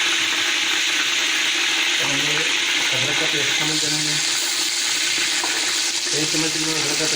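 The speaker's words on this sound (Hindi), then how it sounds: "अदरक का पेस्ट शामिल करेंगे।" Ginger paste sizzling in a hot pan with water for chicken mendi rice, a dense, loud, steady frying hiss with faint stirring clinks and a soft voice beneath.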